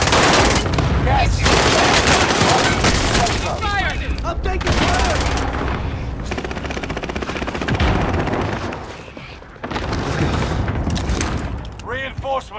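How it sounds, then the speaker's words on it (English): Sustained machine gun fire from the video game Call of Duty: Modern Warfare, loud and dense with rapid bursts and booming impacts, continuing almost throughout with a brief lull near the end. "I'm taking fire. Reinforcements are on the way."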